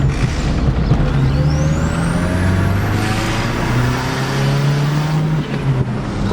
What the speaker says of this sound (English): Is this one of them there fancy turbo whistles you slap on the end of your exhaust?